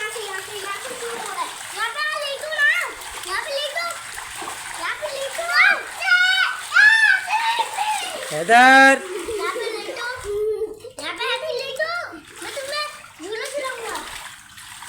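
Children shout and squeal over splashing water in a makeshift pool, with an adult speaking at times; lively, close, continuous play with bursts of water noise.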